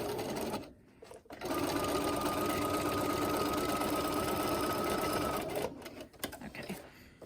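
A sewing machine runs in a steady, continuous stitch over a face mask seam, close and loud, with a brief pause before starting and a slowing finish with handling clicks.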